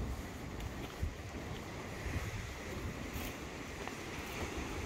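Ocean waves wash onto a narrow beach near high tide, a steady broad rushing surge with wind buffeting the microphone, continuous and fairly close, no voices.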